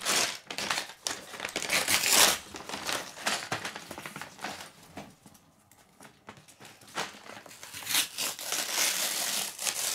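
A plastic bag of Lego pieces from a Star Wars Jedi Starfighter set crinkles and rustles loudly up close, pieces rattling inside, with a brief quieter pause before the handling resumes.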